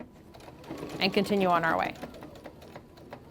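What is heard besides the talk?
sewing machine stitching quilt binding forward and back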